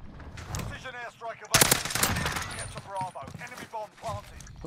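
Rapid gunfire from a shotgun and an M4 rifle during a Search and Destroy match in a first-person shooter, loud bursts of shots with someone talking over and between them.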